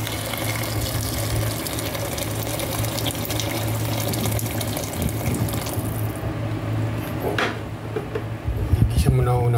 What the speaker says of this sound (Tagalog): Nililisan muna natin yung ginawa natin ng tubig.